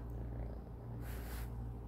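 A cat purrs softly and steadily up close, a low continuous rumble with a brief rustle partway through.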